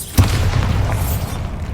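A Bombarda blasting spell explodes in Hogwarts Legacy with one loud, close, deep boom that trails off into a rumbling roar, with no talking.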